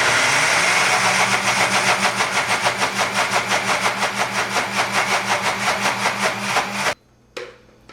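Blender grinding soaked urad dal and chana dal with a little water, a loud pulsing mechanical whir with a regular chugging rhythm that cuts off abruptly near the end, followed by a brief short restart.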